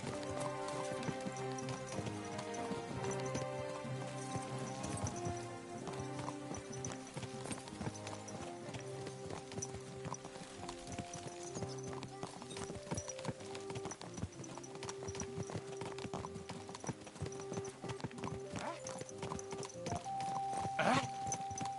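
Horse hooves clip-clop steadily in Kingdom Come Deliverance 2, a continuous rhythmic gallop under game music, moderately quiet with a whinny at times.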